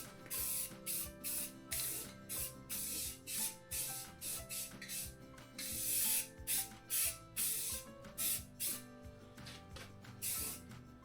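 Aerosol spray paint hisses in repeated short bursts onto Massey Ferguson GC2300 tractor Curtis cab parts. Each spurt is close and loud, split by brief gaps, with a steady rhythm of on-off passes.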